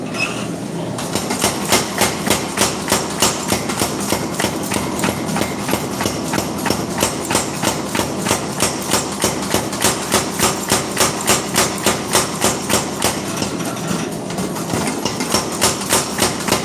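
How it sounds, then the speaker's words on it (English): A hammer strikes hot steel again and again while knives are forged in bulk, loud metallic blows landing at a fast, steady rhythm for most of the stretch, with no talk. "Do a little more forging of that."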